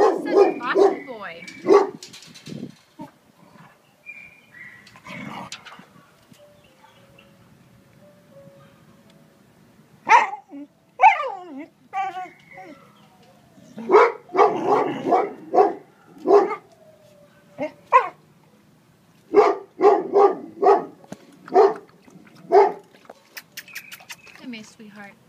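Dog at an animal shelter gives scattered barks and yips in bursts, close and fairly loud, between stretches of quiet, with a voice coaxing in between.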